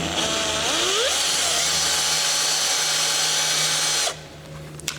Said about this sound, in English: I'm starting by drill.